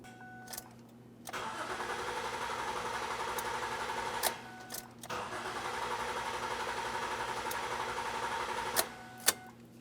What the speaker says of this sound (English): What I'm aiming for here is for the vehicle to crank over several times, but it should not start.